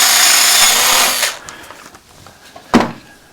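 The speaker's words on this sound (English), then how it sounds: "the first thing we need to do is to drill a hole to allow for the blade to go through" A power drill bores a hole through a piece of wood so a coping saw blade can pass through, the loud whirring grind running steadily for about a second before stopping, followed by a short sharp knock.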